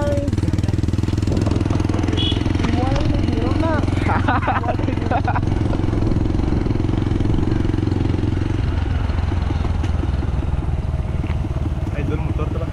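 Motorcycle engine running steadily near a farm by a waterfall in Lake Sebu, a loud continuous low drone with rising pitch sweeps, while voices talk over it.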